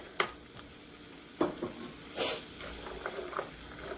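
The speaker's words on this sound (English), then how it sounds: "I have to start talking louder to get over the sizzle." Chicken pot pie filling sizzles and hisses in a pan, with a few stirring scrapes and a brief louder burst of frying partway through; no talking.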